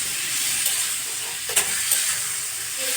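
Tomatoes sizzle in a pan of curry as it is stir-fried, a steady bright hiss with a few brief scraping stirs and small pops, close and alone.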